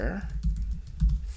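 A few quick keystrokes on a computer keyboard, soft close clicks in a short burst, heard in a quiet room.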